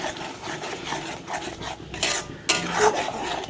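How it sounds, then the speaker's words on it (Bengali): A spoon works tomato puree around a kadai with a little oil, making scraping, clinking strokes against the pan in an uneven rhythm, with a soft sizzle underneath. No one speaks. "একটু নাড়িয়ে টমেটোর ঝোলটাকে, মানে রসটাকে একটু শুকিয়ে নিতে হবে।"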